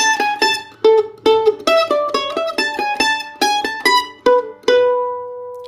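A mandolin plays a short melodic phrase of crisp, plucked notes in a quick, uneven rhythm and ends on a longer ringing note, close and loud, with no voices.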